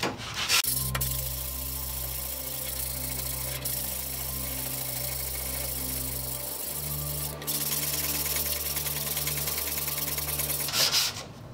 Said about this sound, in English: After I've hit it with the 60 grit sandpaper, I'm going to use a rust removing wheel